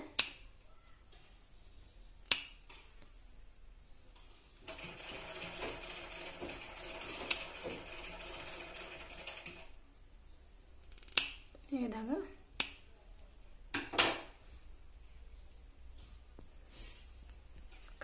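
Scissors snip away waste cloth while fabric buttons are being made, a handful of sharp, brief clicks scattered across a quiet room, with a stretch of soft rustling in the middle.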